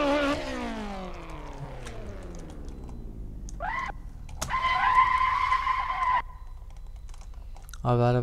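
Honda S2000 engine in the Assetto Corsa racing game, revving down from a high whine to a low rumble under engine braking, then tires skidding and squealing in loud sustained bursts, with another short rev at the end.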